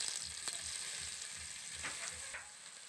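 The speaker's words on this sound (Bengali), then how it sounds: "যে তেলটা বেঁচেছে ওর মধ্যে সয়াবিনটা ভেজে নেব।" Soy chunks fry in leftover oil with a soft, steady sizzle and a few light stirring scrapes, faint and close without any voices.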